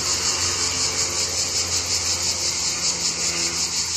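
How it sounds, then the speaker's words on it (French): A chorus of cicadas keeps up a high, steady buzzing with a regular pulsing throb over a low windy rumble, with no voices. "ces cigales, c'est ce qu'on entend là"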